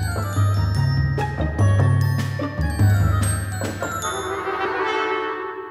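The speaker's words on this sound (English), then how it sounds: "is played by the oboe, and it sounds like this." An oboe plays a melody over orchestral accompaniment, the reedy sustained notes moving through a clear tune with bright ringing harmonics, loud and close with no talking.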